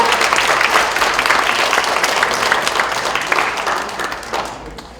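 Strong, dense applause from the audience at a book launch talk concert greets an introduced guest, loud at first and gradually tapering off over five seconds.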